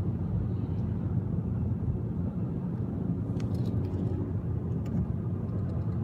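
Steady low rumble of a car driving along a road, heard from inside as continuous engine and road noise, with faint light clicks over it.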